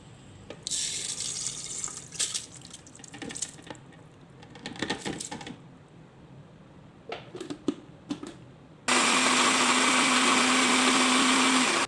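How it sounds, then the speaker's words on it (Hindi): A loud, steady mixer grinder whirs continuously near the end, grinding soaked rice coarsely, after a stretch of clattering and handling noises. "तो हम इसको अभी मिक्सर में डाल के इसको दानेदार ग्राइंड करेंगे।"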